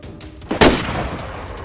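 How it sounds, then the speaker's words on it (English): A single loud gunshot in the DayZ survival video game, a sharp close crack with a short echoing tail, heard alone over faint background ambience. "He took a shot."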